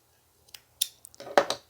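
Scissors snip through crochet yarn with a few short, crisp clicks and a final louder cut, close up in a quiet room.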